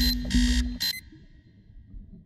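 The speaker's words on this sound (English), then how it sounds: "That's the games alarm." A cartoon's games alarm rings out in bright, loud electronic bursts, a few buzzing pulses in quick succession over about a second, then cuts off into quiet background.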